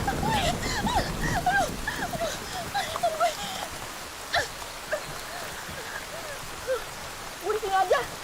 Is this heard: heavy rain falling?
yes